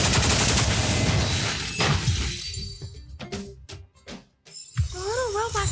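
Gunfire in Honkai Star Rail, a loud burst of shattering shots and breaking impacts at the start, then a few sharp separate cracks with faint game sounds between.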